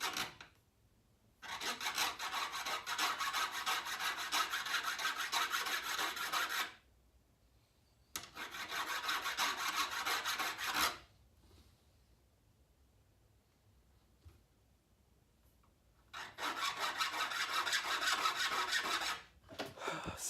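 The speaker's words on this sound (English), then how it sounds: "I have my file, and I'm just gonna file that nub off and clean up this" A hand metal file rasps a nub off a part for a YZ250 ignition timing tool, three long bursts of steady back-and-forth scraping separated by quiet pauses, close and clear with no talk.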